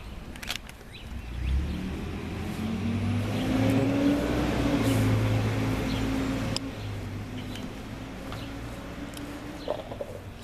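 A car engine rumbles as the car is driven out, with its low tone rising in pitch and swelling before easing back to a steady idle, close by, with birds faintly audible in the background.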